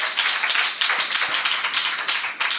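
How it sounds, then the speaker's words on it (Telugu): A crowd at a youth meeting claps loudly in a dense, steady burst of applause that fills the whole stretch without pause. "గట్టిగా చప్పట్లు కొట్టండి."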